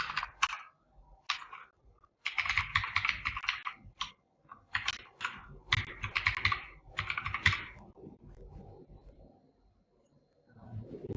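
An email address is typed on a computer keyboard in irregular bursts of quick, crisp key clicks with short pauses between runs, close and clear with no talking.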